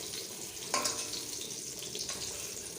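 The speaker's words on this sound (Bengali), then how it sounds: "বেগুন ভাজাটা করছি" Eggplant (brinjal) slices fry in a pan with a steady, soft sizzling hiss, with one brief louder crackle burst near the start and no voices.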